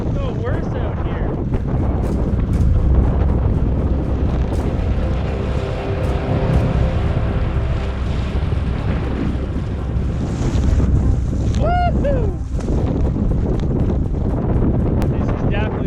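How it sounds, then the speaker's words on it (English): Strong, sustained wind roars and buffets the microphone on open water during a long canoe expedition, with water washing around the boat and a brief whistling tone near the end. "Wind's got to be like 35 kph sustained."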